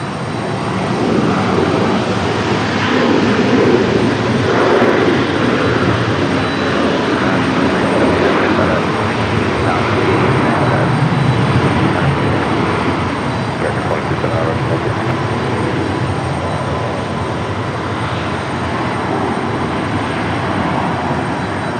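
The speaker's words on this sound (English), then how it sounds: "This one here doing a go around over on the other side due to the winds." An airplane doing a go-around at Raleigh-Durham airport in windy conditions gives a broad, continuous engine roar over the whole stretch, fairly loud, with people talking now and then beneath it.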